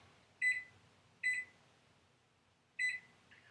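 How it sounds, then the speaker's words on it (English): A kitchen oven timer gives three short, clear electronic beeps, evenly spaced but with a slightly longer gap before the last, in an otherwise quiet room. "And we're going to set the timer for 10 minutes."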